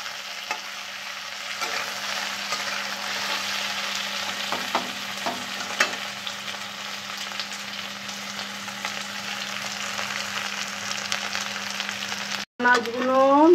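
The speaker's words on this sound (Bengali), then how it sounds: "এগুলো ভালো করে ভেজে নেবো" Fish pieces and cauliflower stems fry in oil for a chorchori, giving a continuous close sizzle with occasional scraping stirs; the frying cuts out briefly near the end before a voice starts speaking.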